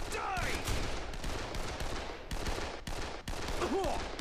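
Gunfire in the video game Dead Island, a dense rattle of rapid shots running throughout at close range, with faint voice-like tones at the start and end.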